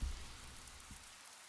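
Steady rain falls in the video game Paper Lily, a dense even hiss with a heavier low rumble at the very start that eases into constant light patter.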